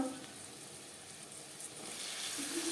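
Brinjal pieces frying in oil in a pan for a mustard greens dish, a faint continuous sizzle that swells slightly toward the end, heard close and alone.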